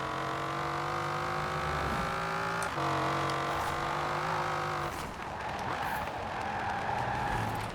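A Chevrolet Camaro IROC-Z in Forza Horizon 4 drives down a highway, its engine droning steadily with shifting pitch, brief dips as it brakes and turns, then a rougher rising roar near the end, loud and close.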